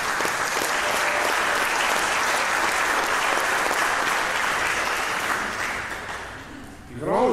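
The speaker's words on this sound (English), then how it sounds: "You can certainly clap all you want for the organist, Marv Ritchie." Congregation at a traditional church worship service applauding the organist, steady sustained clapping from a crowd that fades slightly toward the end before a voice begins.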